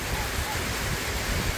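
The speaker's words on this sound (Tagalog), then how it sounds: "Ay, grabe ng lakas ng ulan po." Heavy rain pours down as a steady, loud, dense wash of noise without pause, filling the whole moment with no voices heard.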